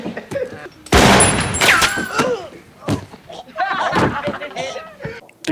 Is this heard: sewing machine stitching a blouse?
no